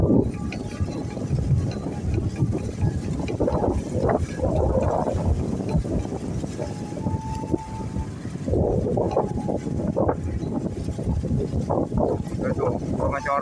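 Strong wind at a bridge construction site roars and buffets the microphone in continuous gusts, loud and close, with faint voices beneath the noise.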